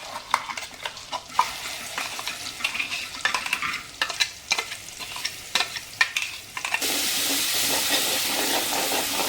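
Ground masala paste sautéing in oil for a green chickpea bhaji, with a steady sizzle and repeated scraping stirs throughout, then a louder, even frying hiss near the end.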